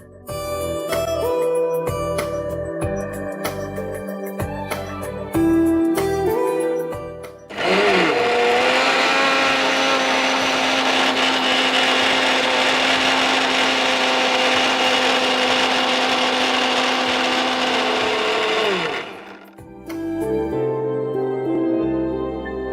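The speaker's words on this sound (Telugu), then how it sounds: "సో ఇది మళ్ళీ మిక్సీ పట్టేసుకుందాం." A mixer grinder blending a banana soya milkshake whirs loudly and steadily for about ten seconds, its motor pitch dipping briefly as it starts and again just before it stops.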